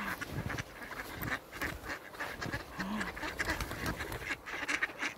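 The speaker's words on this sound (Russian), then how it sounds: "Смотрите, сколько уточек." Many ducks quack in a busy, overlapping chorus close by while being fed bread on an outdoor walk, with other bird calls mixed in throughout.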